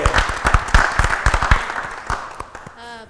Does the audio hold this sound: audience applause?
yes